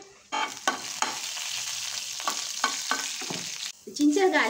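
Cumin, fennel seeds and dried coriander sizzle steadily in a couple of spoons of hot oil in a pan, a continuous bright crackle with a few louder pops and stirring scrapes, no voices.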